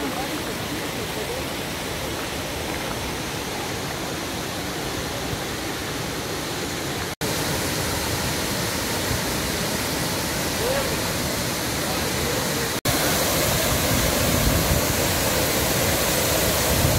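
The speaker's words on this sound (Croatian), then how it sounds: "ovdje na kraju, gdje nema više ništa, gdje ne vidite, nalazi se prelijepi vodopad." A waterfall on the Pliva river roars as a loud, continuous, close wash of rushing water that stays even throughout, with no voices.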